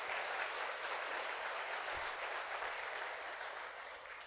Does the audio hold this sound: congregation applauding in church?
yes